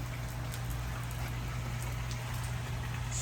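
Steady rain falls outside on a dark, cold, rainy day in South Florida, a continuous even hiss of drops with a low constant hum underneath.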